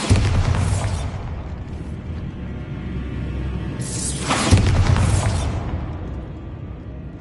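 A Bombarda spell explosion in Hogwarts Legacy, two heavy booming blasts with rumbling debris, the second bursting louder midway before decaying into low rumble.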